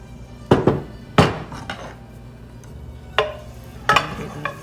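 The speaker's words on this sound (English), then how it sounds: "You want to let them sizzle until they become translucent" Garlic added to a preheated pan for Fagiolini di Sant'Anna makes a few sharp clatters and bursts of sizzle, close and fairly loud, with quieter gaps between them.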